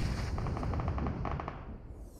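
Rapid automatic gunfire in a tactical shooter video game, a dense sustained burst of shots close and loud, fading slightly toward the end with no voices.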